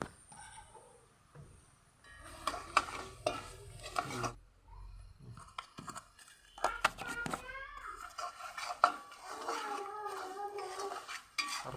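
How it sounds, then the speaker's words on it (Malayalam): Spoon scraping and clinking in a pot as chilli powder and turmeric are stirred into a star fruit pickle mix, irregular clatter with brief gaps, close and moderately loud, with faint background voices. "ഇത് നന്നായിട്ട് ഇളക്കാം നമുക്ക്"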